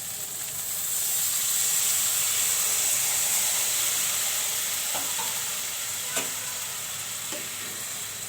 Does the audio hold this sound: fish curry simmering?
yes